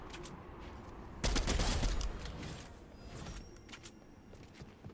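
Rapid burst of gunfire from a rifle in the Fortnite video game, a loud dense volley lasting about a second, followed by fainter scattered shots and game sounds.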